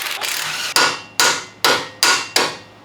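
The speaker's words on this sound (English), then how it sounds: "even if I hammer it, doesn't want to budge" Loud metal hammer blows strike a stuck axle nut during an engine removal on an Abarth 500, one early hit followed by five heavy, evenly spaced strikes with ringing decay, no voices.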